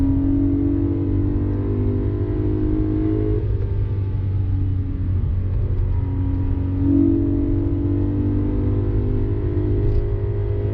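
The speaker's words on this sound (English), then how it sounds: "none of them sound nearly as good as the E90 M3. Just listen to that." A 2011 BMW E90 M3 engine, heard from inside the car as it accelerates under a steady deep rumble, with two rising pulls that each build and then ease off.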